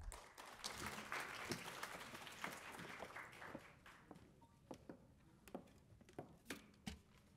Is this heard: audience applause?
yes